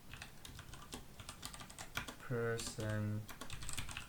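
Typing on a computer keyboard while writing program code, heard as faint scattered key clicks under a person talking.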